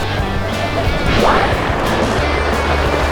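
Sea waves slosh and splash against a boat hull on a summer island crossing to Daenanjido, with a louder surge of spray midway over a steady drone of engine and wind.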